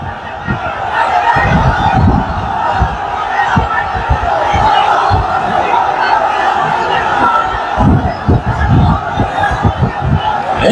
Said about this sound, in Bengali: আসমান জমিন কাঁপিয়ে তোলো তাকবীর ধ্বনিতে।